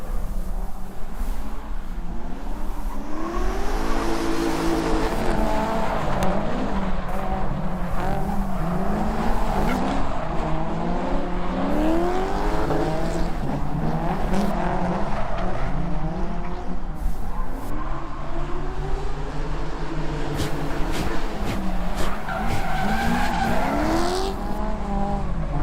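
Drift cars battling at a drift competition, Round One of Casino Royale 2025: engines rev hard and steadily while tires squeal and skid in long overlapping waves, loud and continuous throughout.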